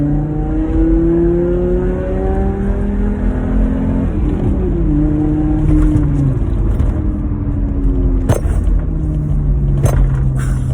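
A naturally aspirated 2.5-litre five-cylinder engine in a 1996 Volvo 850 estate with manual gearbox drones steadily while driving, its pitch rising and falling through gear changes, with road rumble and occasional clicks; no talking.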